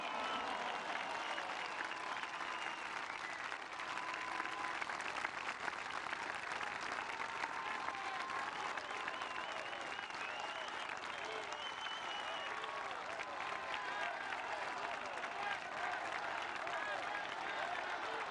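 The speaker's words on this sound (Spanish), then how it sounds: "les pido que les brindemos un fuerte aplauso a las Fuerzas Armadas de México" Strong, sustained audience applause at a Mexican government ceremony in honor of the country's Armed Forces, a dense, even wall of clapping that runs unbroken throughout.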